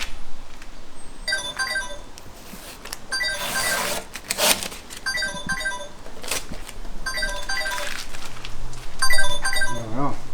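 A mobile phone rings with an incoming call in a workshop during a Tesla repair, giving repeated bursts of electronic ringtone separated by short gaps. Background noise continues between rings and there is no talk.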